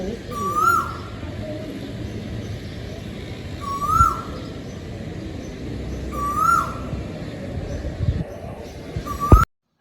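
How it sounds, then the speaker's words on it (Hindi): An Asian koel calls outside a balcony, a clear rising note repeated about every three seconds at moderate distance over a steady background hum. "बाहर कोयल इतनी सुरीली आवाज़ में कूक रही थी"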